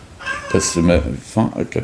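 A cat meows a few times close by, its short cries mixed in with someone talking over a tabletop card game.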